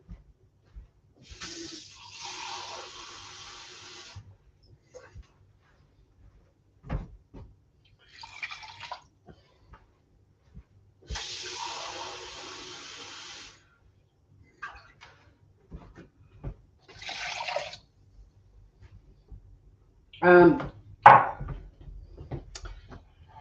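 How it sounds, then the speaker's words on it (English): Two cups of water poured into a cooking pot on medium-low heat, heard as two separate pouring bursts with splashy hiss, followed by shorter splashes and clinks, close and alone with no talk. "I'll just add the 2 cups of water."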